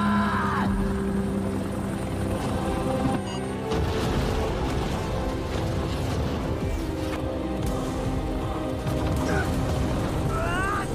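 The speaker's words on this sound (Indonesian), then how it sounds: "3 helikopter tempur mengepung dirinya sekaligus." Three attack helicopters from an Indian gangster action film roar with a steady rotor drone, mixed with dramatic film effects, sharp swooshes and a low rumble throughout, fairly loud and continuous.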